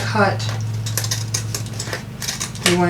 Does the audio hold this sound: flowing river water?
no